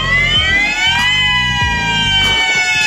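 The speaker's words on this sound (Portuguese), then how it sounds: "rolar uma sirene dessa" A loud emergency warning siren wails continuously in a steady rising and falling tone, close and dominant, with a low rumbling pulse running beneath it throughout.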